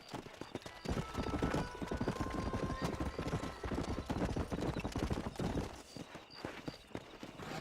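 Horse hooves clip-clopping at a steady brisk pace while riding in Red Dead Redemption, a continuous rhythmic clatter close by with a brief whinny.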